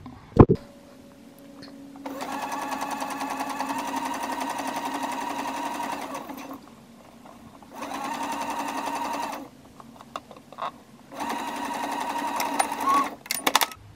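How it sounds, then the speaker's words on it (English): A sewing machine stitches the shoulder and underarm seams of a dress, running in three long steady bursts with pauses between, close and loud, with no talking. "Go ahead and stitch that across the top at the shoulders"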